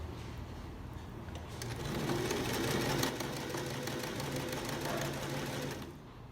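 A sewing machine stitches through three fabric layers to attach an elastic waistband to pajama shorts, running as a steady, close mechanical whir for about six seconds before winding down.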